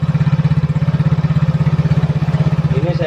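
Close, loud idle of a serviced Yamaha Mio J scooter, a steady even chugging putter that holds its pace without revving.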